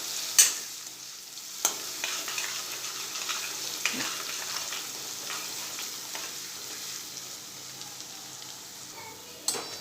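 Finely chopped capsicum sautés in a pan for Mumbai-style pav bhaji, a steady soft sizzle with stirring scrapes and a few sharp utensil knocks, moderately close, no talking.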